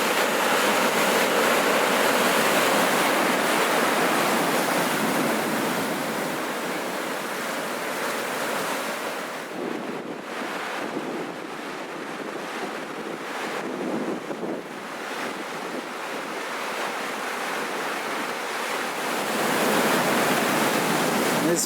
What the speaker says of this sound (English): A few bigger waves come in.